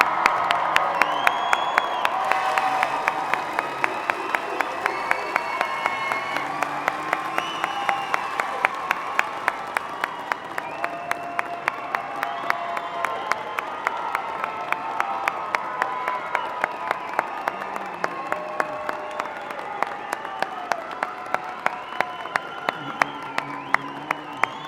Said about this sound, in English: would you give your graduates one more round of applause?